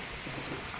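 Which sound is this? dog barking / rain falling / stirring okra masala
rain falling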